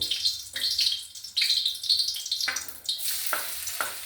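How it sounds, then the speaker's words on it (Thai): Garlic fries in a pan for a Thai jaew makeua dish, a close bright sizzle with bursts of spattering and stirring scrapes, with no voices. "เราเอากระเทียมมาเจียว"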